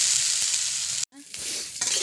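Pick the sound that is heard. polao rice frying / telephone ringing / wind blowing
polao rice frying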